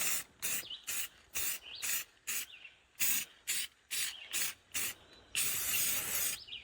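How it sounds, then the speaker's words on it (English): Rustoleum Clear Matte spray paint hissing from an aerosol can onto a rustic thrifted fall decor piece, in about a dozen short regular bursts followed by one longer continuous spray, close and fairly loud. "use my Rustoleum Clear Matte Spray, seal the whole thing"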